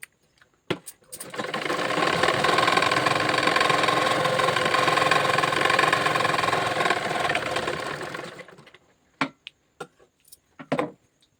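Sewing machine stitching at a home tailoring session, a steady close mechanical whir running continuously for several seconds before stopping, followed by a few sharp clicks and knocks.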